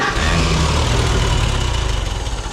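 Vintage International Harvester tractor engine running, a loud close rumbling chug with rough low-pitched pulsing that steadies into a rhythmic idle.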